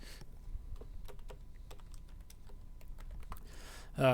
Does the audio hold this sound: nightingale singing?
no